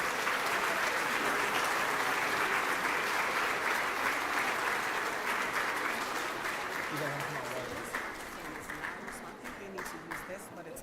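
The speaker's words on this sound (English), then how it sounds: "Please give these students a round of applause." An awards ceremony audience applauds middle school students, a full sustained roar of clapping from a room of people that stays steady for most of the stretch before thinning into scattered claps, with faint voices underneath.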